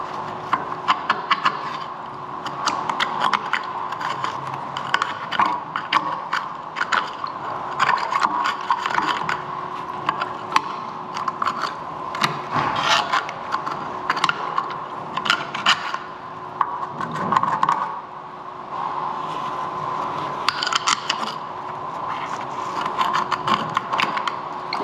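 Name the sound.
scraping out limescale with a screwdriver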